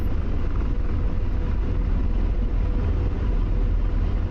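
An AH-64 Apache attack helicopter in the DCS flight simulator holds a loud, steady rotor and turbine rumble with no break, a dense low drone filling the whole stretch.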